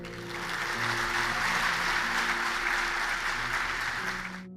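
Sustained audience applause in a lecture hall, full and loud from the start, dense clapping holding steady for several seconds before cutting off abruptly.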